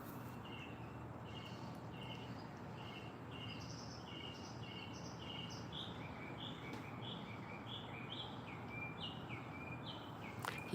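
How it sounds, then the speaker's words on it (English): Small birds chirp outdoors in short repeated high tweets, fairly faint and steady over a quiet background hiss. "You guys hear the birds?"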